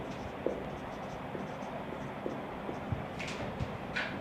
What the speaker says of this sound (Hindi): तो मैं लिख देता हूँ भाई HCF